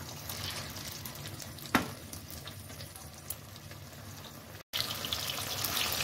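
Cabbage fries in a pan, a steady, moderately quiet sizzle with one sharp utensil knock and a brief dropout, no voices.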